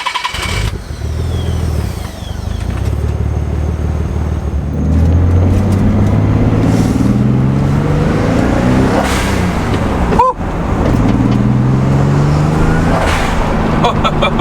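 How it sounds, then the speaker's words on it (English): Twin-turbo Nissan 300ZX engine running close by after an intercooler install, a loud steady idle with rising and falling revs and a brief sharp click partway through. "the engine noise is much louder"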